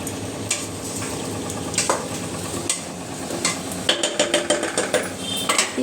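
Mushrooms are stirred into frying onion and curry leaves in a pan, with repeated scraping and clinking of a spoon against metal over a soft sizzle, close and busy, no talk.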